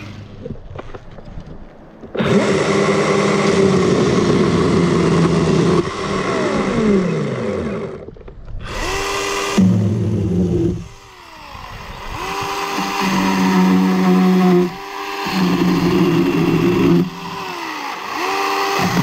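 A new Ryobi 18V brushless cordless chainsaw with a 10-inch bar cutting wood, its loud, steady electric whine rising and dropping in several long bursts as the chain bites, with short pauses between cuts.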